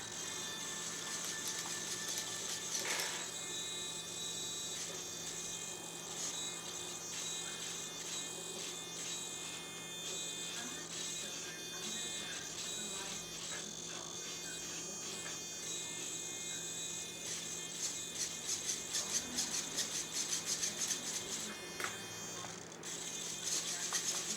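Servos on a T-Rex 700 RC helicopter whir and buzz steadily as the sticks are pushed to full travel, a continuous close mechanical drone with faint ratcheting flickers throughout and no talking.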